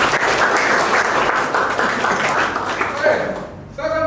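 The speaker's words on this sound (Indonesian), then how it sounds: "Kasih aplaus buat ketua kelasnya." A classroom of students applauding their class leader, dense loud clapping that fades out near the end as a voice begins speaking.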